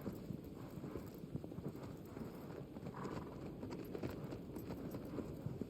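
Hooves of a large, thick-legged draft-type horse clip-clop steadily at a running pace in the video game Shadow of the Colossus, a dense, continuous patter that stays fairly faint with no voices.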